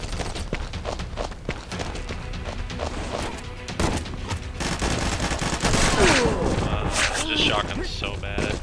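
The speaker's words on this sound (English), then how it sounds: "There's a dude shooting me from behind me" Gunfire in the shooter video game Combat Master, rapid bursts of shots and impacts layered over constant in-game noise, getting louder and busier toward the end, with a person talking throughout.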